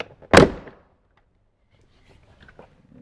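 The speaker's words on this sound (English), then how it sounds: "Let's go ahead and pop the door panel off." A loud, sharp plastic pop as a Toyota Tundra door panel's retaining clips release, a single close burst followed by quieter rustling and handling noises.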